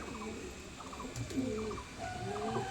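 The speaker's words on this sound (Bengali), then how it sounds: "পায়রাগুলো ছটফট করছে" Pigeons coo in soft, repeated, throaty bursts close by, several birds overlapping in a gentle rolling rhythm. The setting is a quiet pen with faint background hum and no voices.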